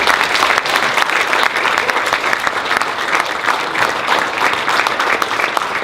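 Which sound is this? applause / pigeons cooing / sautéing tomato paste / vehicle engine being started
applause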